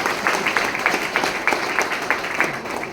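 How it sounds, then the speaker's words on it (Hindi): Scattered hand claps from a gathered audience at a meeting held in a Swaminarayan temple in Nadiad, arriving as loose, uneven bursts over a steady roomy murmur. "एक बार ताली बजाओ यार किसी चावल की।"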